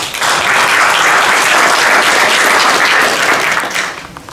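Audience applause at a community event on human trafficking and child advocacy: dense, loud, sustained clapping from a sizable crowd that holds steady for about four seconds, then begins to taper off.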